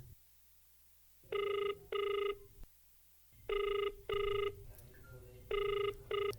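A telephone rings in clear repeated double bursts, two pairs and then a third, loud and close with quiet pauses between the rings and low background noise underneath.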